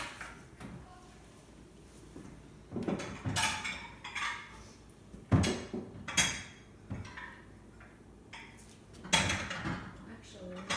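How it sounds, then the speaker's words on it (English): A bowl grabbed from a stack of kitchen dishes, several sharp ceramic clatters and knocks in irregular bursts, with a person talking between them. "I'm gonna grab a bowl"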